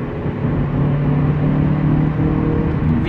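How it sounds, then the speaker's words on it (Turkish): Opel Astra sedan 1.6 Easytronic engine heard from inside the cabin under overboost, a loud, steady droning hum with low tonal whine that holds throughout, with no talking. "overboost yaptığımızda araçta içeri doğru çok fazla ses alabiliyor araba"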